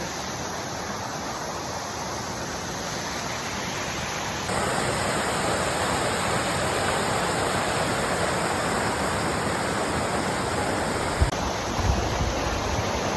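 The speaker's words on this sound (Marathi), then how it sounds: "इकडे खळखळणारा धबधबा" A gushing waterfall at Rayreshwar fort roars as a dense, steady rush of falling water, close and loud, growing slightly fuller partway through, with no voices.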